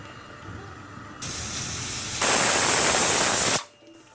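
A steady hiss of escaping steam from a pressure cooker swells louder, joined by a high, sharp whistling tone, then cuts off abruptly.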